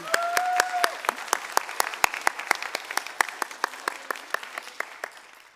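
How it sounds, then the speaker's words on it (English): Conference audience clapping at a student success keynote, loud close claps that start thick and thin out into fewer, sharper individual claps as the applause fades, with a brief tonal whistle or feedback near the start. "you all applauded for them very loudly"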